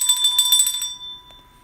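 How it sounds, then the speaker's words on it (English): A bell rings rapidly in a quick run of bright, close strikes while trading cards are opened. It then cuts off, leaving a brief fading tone and a soft click. "I apologize there, Aaron, but I got to ring the bell here for Chuck guy."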